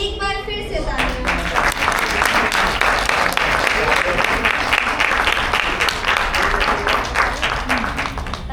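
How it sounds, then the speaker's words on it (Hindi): Spectators at a children's cultural program applaud after a short play. A brief voice comes first, then loud, dense clapping from a large crowd fills the room and holds steady to the end. "एक बार फिर से तालियां।"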